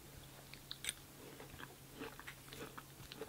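Someone chews a caramel-dipped treat, soft crunching bites and wet chewing sounds recurring close by at a quiet level, with no talking.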